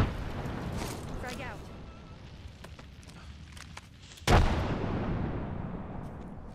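A grenade blast goes off in an Apex Legends firefight, one sharp, loud burst with a rumbling tail that lingers under other gunfire and the chatter of players talking.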